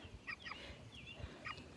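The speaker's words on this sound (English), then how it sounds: "show you these little chickens" Several chickens behind chicken wire on a homestead cluck softly in short, scattered bursts, faint and close-ish over a low background rumble.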